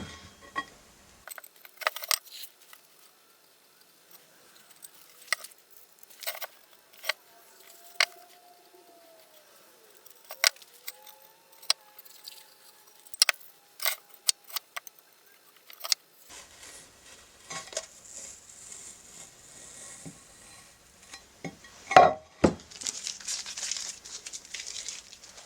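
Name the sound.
masking tape being peeled off a sandcarved piece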